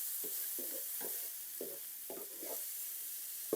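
Chopped garlic sizzling in a hot pan, a steady bright hiss of frying with soft intermittent scraping from stirring, close and alone without voices.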